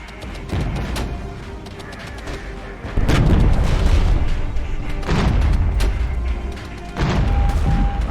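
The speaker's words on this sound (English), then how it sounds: "Right, artillery barrage." Heavy artillery barrage in the wargame Regiments, with repeated deep booms and shell impacts rolling one after another, growing louder and denser partway through, loud and close with no talk over it.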